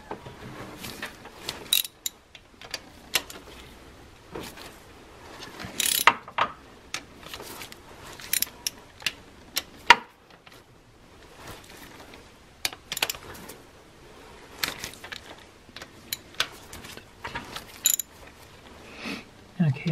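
Rocker arm bolts on a Caravan 3.0L engine being broken loose by hand with a ratchet, giving scattered sharp clicks and short ratcheting bursts spread irregularly through a quiet workshop, fairly close.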